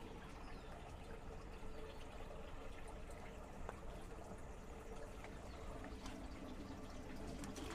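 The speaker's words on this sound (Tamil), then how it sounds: "இப்போ வந்து பார்த்திங்கன்னா இந்த ஓஸில் தண்ணி திறந்து விட்டுருக்கேன்." Water running from a hose fed by a tank line in a rooftop terrace garden, a steady low-pressure flow heard as continuous soft pouring and trickling, faint and unbroken throughout with no talking.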